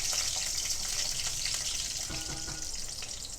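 Small shallots are added to oil already frying fenugreek and fennel seeds, giving a steady, hissing sizzle close by. The sound is even and moderately loud, with faint stirring and no talk.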